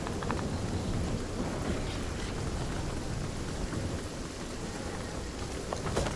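Storm in the video game Fortnite: steady heavy rain hisses and patters with low rolling thunder rumbling underneath, continuous and fairly loud from start to finish.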